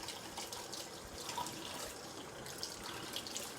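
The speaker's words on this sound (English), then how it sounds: "now we'll just wash those seeds away" Tap water runs steadily over a Hatch chile as its seeds are washed out, a soft, constant splashing stream heard alone at low volume.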